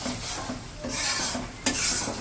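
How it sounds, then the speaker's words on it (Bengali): Spices being sautéed and stirred in a pan over a village cooking fire, a steady scraping, sizzling texture with a few brighter clinks of the spoon against the pot. "আর এই পাশে এই যে মশলা কষাইতেছে"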